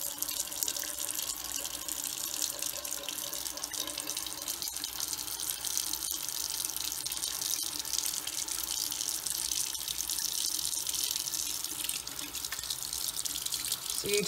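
Running tap water pours steadily as wash-away stabilizer is rinsed out of a machine-embroidered piece under the faucet, a continuous even splashing hiss with no voices.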